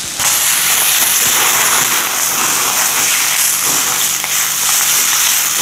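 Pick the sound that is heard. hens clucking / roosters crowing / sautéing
sautéing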